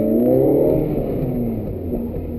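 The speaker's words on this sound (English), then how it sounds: "it makes a lot of noise, and it's a beautiful sound. Engine sounds very racy" 2005 Suzuki Ignis Sport with its 1.5-litre M15A engine revving hard while driving, a loud rising then easing drone with steady harmonic whine and road rumble, heard from inside the car.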